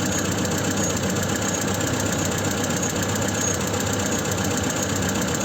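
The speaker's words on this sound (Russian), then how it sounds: "Какой звук от генератора бьется." A running ZMZ 402 engine in a GAZ 3110 with a 75-amp Eltra alternator that knocks, giving a steady, loud, close mechanical hum and rattle that continues throughout with no talk.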